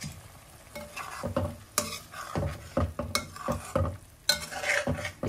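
Cumin seeds and dried coriander frying in oil with green chilies for egg curry, crackling close by while a spoon scrapes and stirs in irregular strokes, with occasional knocks against the pot.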